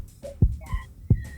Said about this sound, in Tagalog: Maglagay ka nga ng sound effects ng puso.